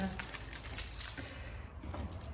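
Keys jingling and clinking close by, a steady metallic rattle that briefly quiets before jangling again.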